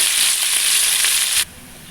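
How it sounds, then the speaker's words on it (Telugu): Half an onion and curry leaves hit hot tempering oil already holding mustard seeds, cumin and fenugreek, giving a loud, steady hiss and sizzle that suddenly drops away to near quiet. "పోపు ఇలా వేగిన తర్వాత కట్ చేసిన హాఫ్ ఆనియన్, కరివేపాకు వేసుకోండి"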